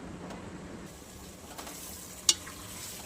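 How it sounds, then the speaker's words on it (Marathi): Fried paneer simmers in a vegetable gravy for paneer biryani, giving a soft, steady sizzle with faint stirring and one sharp utensil clink near the end. "तुम्ही ह्याला आहे ना 2 मिनटं असंच ह्याला ह्या भाजीत शिजवून घेणार आहे."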